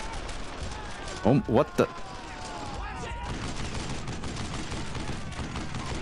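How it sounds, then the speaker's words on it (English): Suppressing gunfire in the World War II shooter Brothers in Arms: Earned in Blood, continuous rattling rifle and machine-gun fire with a few sharp louder bursts, while someone talks briefly. "No mercy, suppressing fire."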